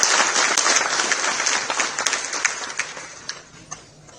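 Loud audience applause at a film screening in the Delhi Secretariat, a dense wash of many hands clapping that gradually thins and fades toward the end, with a few scattered individual claps at the tail.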